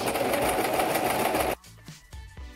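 A sewing machine zigzag-stitches picot lingerie elastic, running loud and steady for about a second and a half before cutting off to faint handling clicks and knocks.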